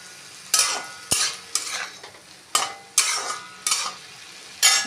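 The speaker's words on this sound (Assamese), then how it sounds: "প্ৰথমতে অকণমান লৰাই লওঁ" Long beans and potatoes being stirred in a frying pan over a medium gas flame, with repeated scraping stirs and a sharp utensil clank over a steady sizzle, close by.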